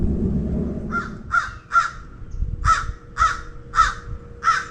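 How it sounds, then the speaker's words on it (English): Several crows caw from the trees of a quiet cemetery, a run of about eight harsh, evenly spaced calls at moderate distance over low outdoor background rumble. "There are some very talkative crows around here."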